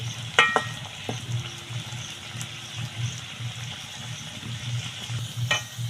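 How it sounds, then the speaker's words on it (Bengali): Palm fruit pitha fry in hot oil, a continuous bubbling sizzle with occasional light clinks and scrapes as the pieces are turned, close and moderately loud throughout. "দু পিটি খুব সুন্দর করে ভেজে নিয়েছি"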